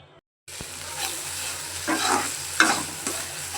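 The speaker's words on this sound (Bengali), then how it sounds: "মশলা ভালোভাবে কষিয়ে নেব" Spice masala for koi fish bhuna being stirred and fried in a pan, with a steady sizzle and occasional scrapes of the spoon, close and fairly loud after a brief silent start.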